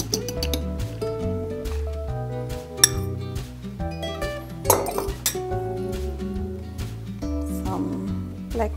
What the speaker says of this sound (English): I will lightly beat my eggs.